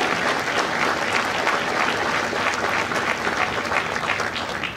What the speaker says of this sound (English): Ladies and gentlemen, a round of applause for our recruiters and our combat instructors.